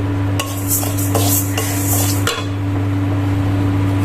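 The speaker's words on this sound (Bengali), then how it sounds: "ভালো করে এটাকে আমি ভেজে নেব ডালটাকে।" Mung dal is dry-roasted and stirred in a kadai, with a spatula scraping and clinking against the metal in a few quick strokes over a low steady hum.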